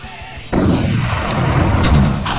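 Bomb explosions in a Commodore 64 platform game: an abrupt loud boom kicks in and sustains as a dense, rumbling noise burst with a descending sweep, heard alone at close range.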